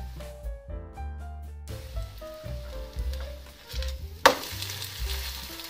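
Flipped food roasts in a pan over the flame, giving a low, uneven crackle with a sharp burst near the end, beneath tonal background music.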